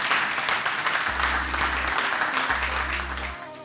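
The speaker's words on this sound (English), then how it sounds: "let's give everyone in the room a round of applause" A room full of people at a property mastermind gathering breaks into a round of applause, dense and continuous clapping at moderate level that carries on steadily throughout.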